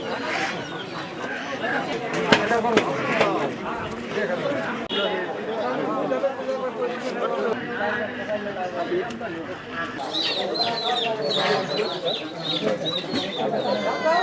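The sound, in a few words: chickens clucking at a poultry market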